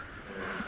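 A Honda XR dirt bike engine revs briefly in a short, steady, loud burst of motor noise heard close by.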